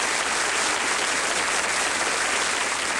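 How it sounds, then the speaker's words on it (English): A studio audience at a 1990 Bullseye game show applauds loudly and without a break, a dense, even wash of clapping from many hands. "Wonderful, enthusiastic studio audience tonight, clapping like mad"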